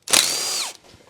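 Power tool spinning out bolts from the magneto cover of a Polaris quad, a single loud whirring burst that winds down abruptly.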